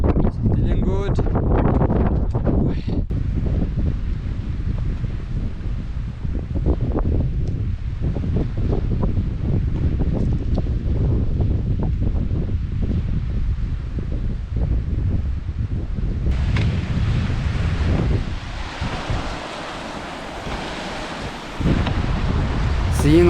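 Strong gusting wind buffets the microphone on a mountain peak on the Tour du Mont Blanc, a loud roaring rumble that swells and drops, with a brief lull near the end.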